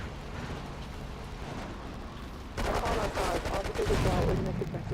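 Grenade blast and gunfire in the game GTA III, a sustained roar of rapid shots and rumbling detonation that suddenly grows louder and denser, with talk faintly underneath.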